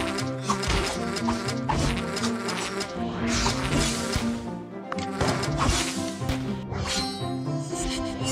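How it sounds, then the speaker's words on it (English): Bees buzz in a dense, continuous drone in the tower defense game Tiny Guardians, loud and steady throughout with game music and effects layered underneath and no talking. "It's bees. Bring it on, bees."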